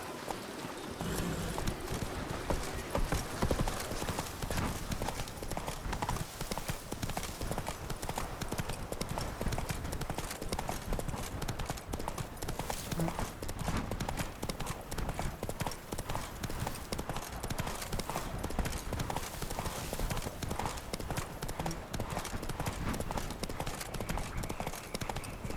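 Hooves of Roach, the horse in The Witcher 3, clip-clop in a steady fast gallop for the whole stretch, loud and close, with game music and ambience underneath and no talk.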